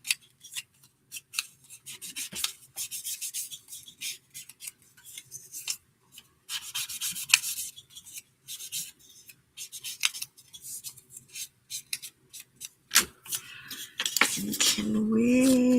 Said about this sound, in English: we're just going to cut from here right up to that corner.